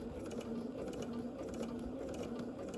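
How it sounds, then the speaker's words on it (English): A sewing machine runs a steady straight stitch along a stem, its needle mechanism whirring in an even, continuous mechanical rhythm, close up with no talking. "Now my machine will go straight stitch, and I'll go right alongside the stem."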